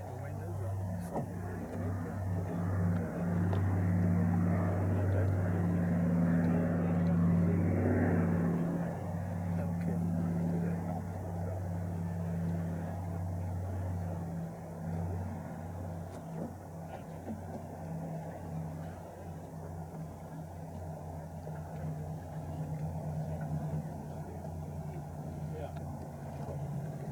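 A Catalina flying boat landing on Priest Lake, a sustained droning engine rumble that swells and then slowly fades and eases off, heard from a distance with people talking nearby.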